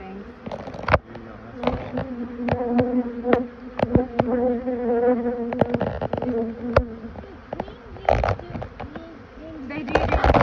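Honey bees buzzing around an open hive during winter preparation, a steady close drone with individual bees zipping past the microphone, and people talking over the hum.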